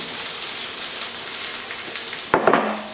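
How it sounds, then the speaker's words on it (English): Leeks hit a hot pan with caramelised pork and apples, a steady close sizzle that flares into a brief louder crackle and hiss partway through. "we are going to add our leek"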